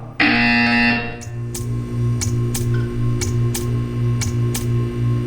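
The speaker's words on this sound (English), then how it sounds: "You will hear a buzzer." A buzzer sounds in the video game Portal 2, a loud sustained electronic tone for about a second, followed by a steady ticking pulse with low humming underneath.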